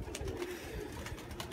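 Armenian tumbler pigeons coo softly in a winter pigeon loft, a low, continuous murmur amid background noise.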